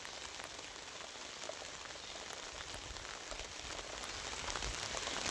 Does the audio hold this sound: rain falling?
yes